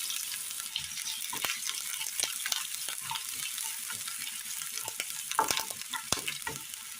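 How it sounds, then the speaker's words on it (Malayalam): Chopped shallots fry in hot oil with a steady, close sizzle, broken by occasional soft pops and the scrape of stirring. "കടുക് നല്ലതുപോലെ പൊട്ടി വരുമ്പോൾ അതിലേക്ക് ചെറിയുള്ളി അരിഞ്ഞത് ഇട്ട് കൊടുക്കാം"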